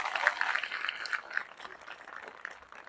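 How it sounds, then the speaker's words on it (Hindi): An audience gives soft, faint applause, a thin spattering of claps that stays fairly steady and then fades slightly over a few seconds. "इनके लिए तालियां तो बजाओ।"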